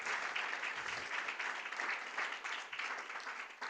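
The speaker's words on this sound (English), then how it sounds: "I would ask all our audience to give you a big applause for this" Audience applause in a conference hall, dense and sustained clapping from a large crowd at an even level throughout.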